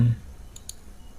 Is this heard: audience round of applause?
no